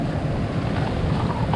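Rough sea waves slapping against a small fishing boat off the coast, a loud continuous wash of churning water and wind buffeting the microphone, with no voices.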